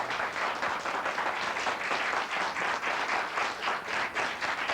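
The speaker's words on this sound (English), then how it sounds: "Nice round of applause for them right now." A crowd claps for a high school jazz band at a community audition event in 1981, a full, sustained round of applause from many hands, loud and even from start to finish with no voices over it.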